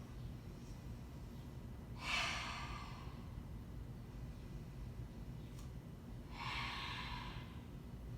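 Two slow, deep breaths during a yoga class, a breathy exhale just after two seconds and another near six and a half, soft and close over a quiet low hum.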